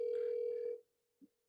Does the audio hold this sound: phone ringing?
yes